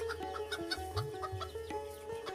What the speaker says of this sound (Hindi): हसन, मुर्गियां जल्दी बड़ी हो रही हैं